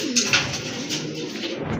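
A pair of pigeons offered for sale, cooing softly and close by in a few short, repeated calls, with no talking.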